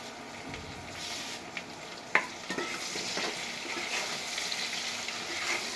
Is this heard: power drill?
no